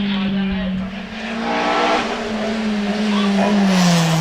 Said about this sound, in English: So Andrew Colborn gets underway then in the Van Diemen.